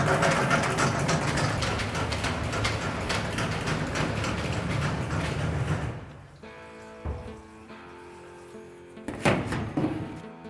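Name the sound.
Lotus Holland EVO Compact screen cleaning machine running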